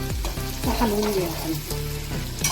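Onion, tomato and curry leaves fry in a pan for peanut amti while being stirred, a close continuous sizzle with scraping spoon strokes.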